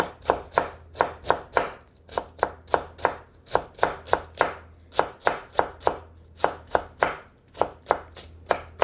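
A knife julienning old cucumber (nogak) on a cutting board gives a long run of fast, crisp chops. The strokes fall evenly with short pauses between runs, close and clear, with no talk.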